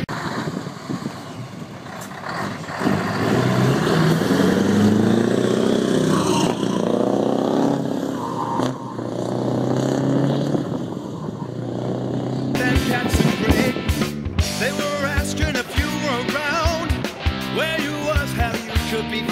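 A Scania V8 T580 truck with open exhaust pipes pulls away, its deep engine note swelling and revving through rising gear pulls, then turning into a loud, choppy roar near the microphone.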